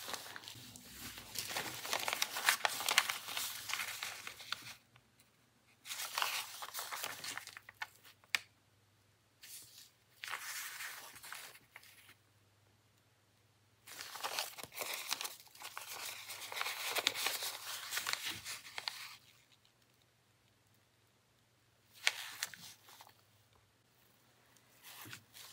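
Paper is folded and cut for the spine of a handmade art book, with soft, close crinkling and rustling bursts separated by quiet pauses and no talk.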